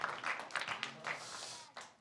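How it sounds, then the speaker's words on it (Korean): A congregation claps during a church sermon, a short irregular patter of hands at moderate distance with a few louder claps, fairly quiet overall. "박수."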